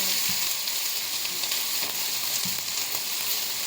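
Hot oil sizzling in a pan for tempering: a steady, bright, hissing crackle at moderate level, with a few faint low knocks, no talk.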